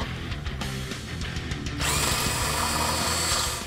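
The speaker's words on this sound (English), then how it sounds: "If you have a step bit like we're using here, it's actually going to be a lot easier, so we're going to use this to drill our hole open" A power drill fitted with a step bit widens a hole in the metal bumper bar of a 2013-2016 Ford Focus ST, with a few short clicks and knocks before the drill spins up into a loud, steady whine.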